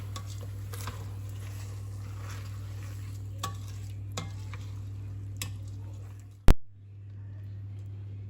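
Rice being stirred in a pan for arancini, a soft continuous frying sizzle with scattered scraping knocks and an electrical hum, ending in one loud clank before the sound drops away.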